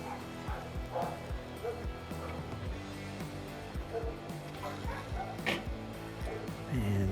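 A small dog barks repeatedly and insistently at something it has treed, the yips coming in quick irregular bursts at moderate distance, with occasional speech nearby.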